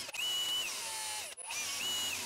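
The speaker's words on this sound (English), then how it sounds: "You'll also want to pre-drill some countersunk holes in them." A power drill pre-drills countersunk holes in thin wooden strips about 3/8 inch thick, whining loudly and close in two steady runs separated by a brief stop.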